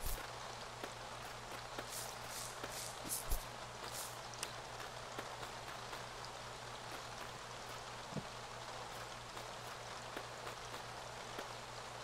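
Steady rain falling in the farming video game Staxel, a soft, even hiss of drops with a few faint taps, heard alone at low volume throughout.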